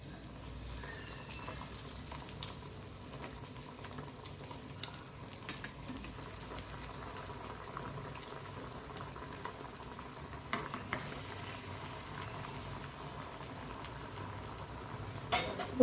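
Chicken keema cutlets fry in a pan of oil, giving a steady soft sizzle with occasional light clinks of a utensil against the pan and no one speaking.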